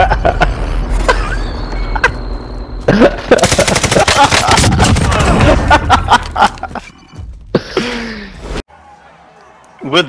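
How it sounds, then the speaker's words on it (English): Video game combat with rapid machine-gun fire, gunshots and an explosion from a thrown grenade, loud and dense, with excited players talking over the action throughout. "I panicked and threw a grenade."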